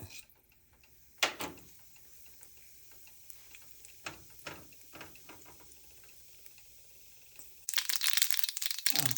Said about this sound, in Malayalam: കടുക് ഓൾമോസ്റ്റ് പൊട്ടി കഴിയാറായി